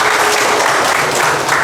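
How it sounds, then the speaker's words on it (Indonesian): A classroom of students applauds a classmate, a dense, loud burst of clapping that carries on steadily throughout. "Tepuk tangan untuk Wulan."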